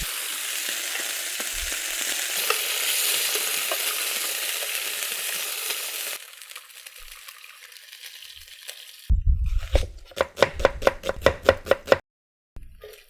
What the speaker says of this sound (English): I'm just gonna give them color on one side because you just want caramelization, just like that